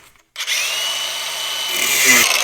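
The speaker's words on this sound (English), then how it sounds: "I don't have a pickling fork, but I do have a grinder." An angle grinder spinning off the tie rod ends on a 1964 Ford Falcon's front suspension. It starts abruptly after a moment of quiet, then holds a loud, steady high whine that grows rougher and louder toward the end.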